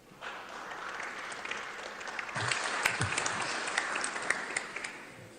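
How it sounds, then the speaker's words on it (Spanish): An audience at an international political party forum applauds a speaker from the PRI, a dense, steady clapping that swells partway through and continues without talk. "a quien recibimos con fuertes aplausos"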